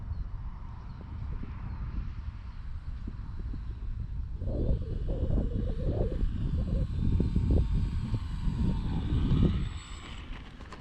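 An RC Dynam C-47 model airplane comes in to land outdoors: a faint motor hum gives way to louder rough rumbling and bumping as it touches down and rolls along the ground, then fades.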